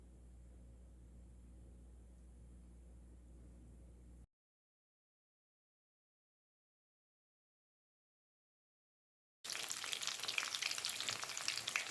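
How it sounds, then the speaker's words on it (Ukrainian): Loud, steady sizzling of cabbage-filled chebureki frying in hot oil in a well-heated pan, starting abruptly after a stretch of low hum and silence. "Смажу чебуреки на гарно розігрітій сковорідці"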